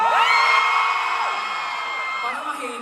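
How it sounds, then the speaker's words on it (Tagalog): Concert crowd at a performance cheering and shouting, a loud burst of whoops and screams that holds and slowly fades over a few seconds. "Parang mahina yung sigawan."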